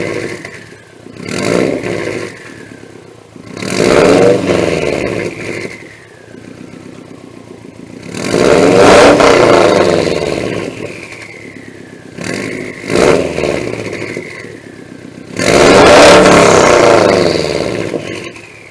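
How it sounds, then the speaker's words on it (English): A 2013 Subaru STI fitted with an Invidia catless downpipe revs repeatedly in cold weather, several loud rising bursts with a whistling turbo edge separated by brief drops back toward idle, close to the car with no talking. "I'm gonna just rev it up, and then I'll just film it so you guys can see how it sounds."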